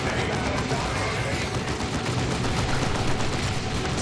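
Plasma and bolter fire in Dawn of War 2 Retribution, aimed at an enemy bunker: a dense, constant barrage of rapid shots and impacts, loud and unbroken, blending into a steady roar of battle.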